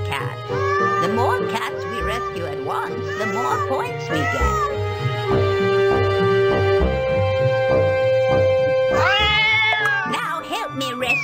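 Cats in the video game Granny in Paradise, with several distinct meows and drawn-out wails in a loud run, some overlapping, alongside game music. No one speaks.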